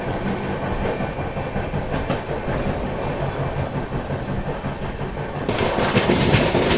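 Duronto Express, train 12286 bound for Secunderabad, running at speed past Gwalior station, with a steady loud rumble and rattle of the coaches and a surge in noise near the end.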